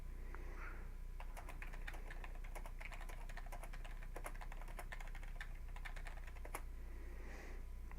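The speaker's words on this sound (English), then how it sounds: "Typing too fast, going too fast" Fast, continuous typing on a computer keyboard, a dense run of quick, crisp key clicks with occasional heavier strokes, close and steady over a low background hum, no talking.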